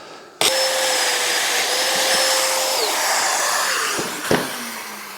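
A Festool Domino DF500 joiner switches on with a sharp start, whines steadily at high speed through a plunge cut, then dips and clicks off with a brief thump at the end.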